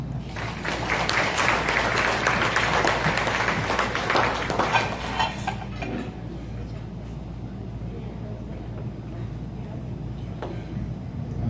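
An audience at a hospital graduation ceremony applauds in a dense, sustained wash of clapping that stays loud for about five seconds, then thins and fades into a quieter room murmur.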